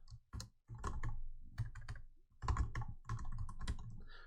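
An email address is typed on a computer keyboard. Close, crisp key clicks come in quick, uneven bursts separated by short gaps.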